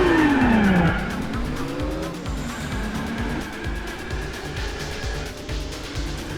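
A Nissan Skyline ER34 drift car launching from a standing start in second gear in Gran Turismo 4, engine revving high then dropping as tires squeal, followed by a steady rhythmic engine drone.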